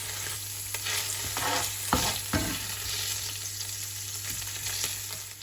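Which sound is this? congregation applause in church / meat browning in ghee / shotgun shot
meat browning in ghee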